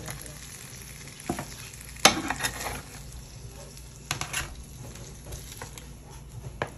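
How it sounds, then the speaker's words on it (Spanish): Continuous sizzle of ingredients frying in a pan for a chicken stew in red sauce, with sharp pops and crackles bursting out now and then. "aquí mismo voy a estar friendo los otros"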